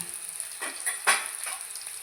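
Fried panch phoron tempering ladled into vegetarian mixed-vegetable khichuri gives a few short, bright sizzling bursts over a faint steady hiss, close by with no talking.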